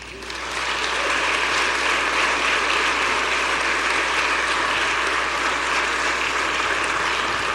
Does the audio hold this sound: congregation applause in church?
yes